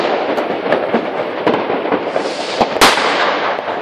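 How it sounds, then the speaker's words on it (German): Firecrackers banging on New Year's Eve, a dense outdoor barrage of pops and cracks with one especially loud, close blast near the end, heard alone without talk. "Hier ist ein Böller."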